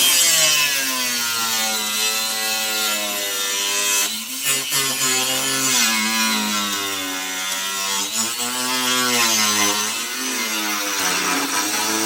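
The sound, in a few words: sawing wood, cutting it straight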